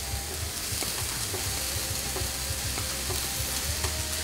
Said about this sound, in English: Stir it up. Get all our cheese in here.